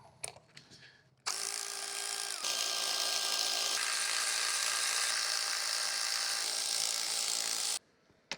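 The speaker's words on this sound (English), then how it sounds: "Now everything should be secured. To remove the last bolts." Power tool spinning out the last bolts while separating a V8 engine from a Volvo S80, a loud steady high-pitched whir lasting about six seconds with a slight pitch shift partway, close by, bracketed by faint clinks.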